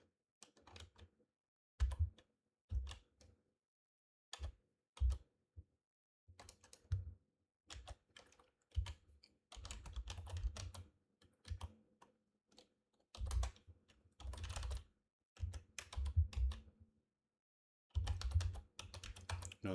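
Code being typed on a computer keyboard, bursts of quick clicking keystrokes separated by short pauses, close and fairly quiet, with no talking.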